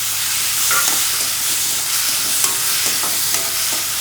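Tomatoes sautéing in a pan for a dry ginger and pepper kuzhambu give a steady, loud close sizzle with occasional stirring scrapes, and no one speaks.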